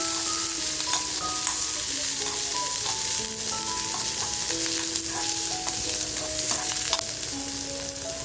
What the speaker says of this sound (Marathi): लसूण आलं आणि मिरची हे कापून घेतले तेही आपल्याला छान असं फ्राय करून घ्यायचे